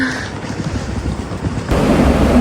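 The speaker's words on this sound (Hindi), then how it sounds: "बहुत ठंडी ठंडी हवा चल रही है और ठंडा ठंडा पानी" Cold wind gusts across a riverside ghat on the way to Badrinath, a loud rushing roar buffeting the microphone that grows heavier near the end.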